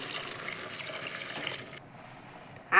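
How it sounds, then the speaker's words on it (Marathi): Water poured into sautéed rice for khichdi splashes steadily for a moment, then quietens before a louder burst of running water at the very end. "टाकूयात आता पाणी"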